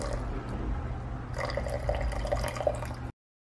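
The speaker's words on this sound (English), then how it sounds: "I proceeded to blend a fresh batch of sand, plaster, and water." A fresh batch of sand, plaster and water is mixed by hand for diorama terrain, making close, soft wet drips and sloshes before cutting off abruptly.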